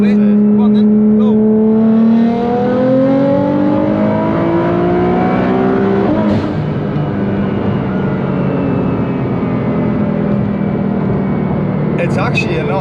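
A Nissan GTR JM1300R street car at full throttle, its engine pitch sweeping up hard through the revs, dropping for a gear change and climbing again, loud and close inside the cabin while people talk.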